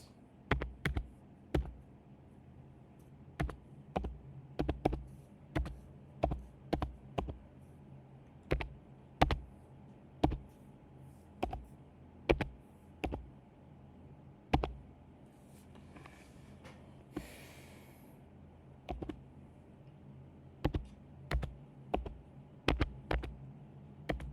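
Keyboard keys clatter in irregular bursts of sharp clicks while an email address is entered into a school admission form, close and fairly quiet, with a low hum beneath and no voices.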